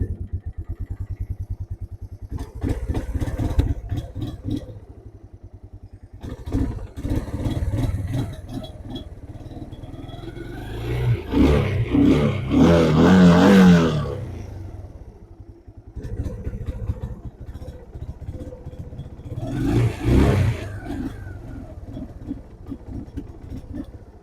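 A cheap $300 quad ATV engine cranks and sputters, catches, then runs in uneven bursts of rough revving with clattering and lulls of idling between, close by and loud.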